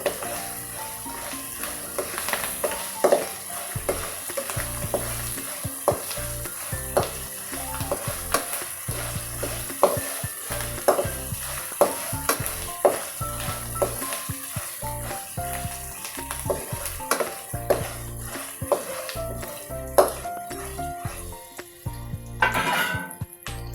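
Lemon rice seasoning sizzles and crackles in a pan over a medium gas flame, with a steady frying hiss and frequent spatula scrapes and clinks close up for a long continuous stretch.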